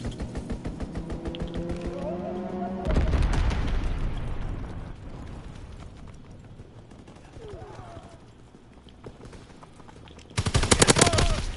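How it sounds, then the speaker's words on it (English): In a World War 2 video game, an aircraft strafing run unleashes rapid machine-gun fire in dense bursts that swell loudly midway and return in a hard final volley, with game voices and effects around it. "Enemy strafing run incoming!"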